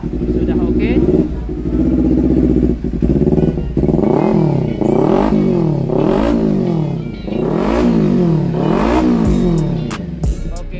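A Kawasaki Ninja 250 FI engine, just repaired, revs up close and loud in repeated rising and falling sweeps, about five throttle blips after an opening stretch of steady idle.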